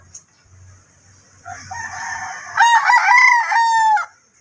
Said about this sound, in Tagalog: Yan, marami rin silang manok dito.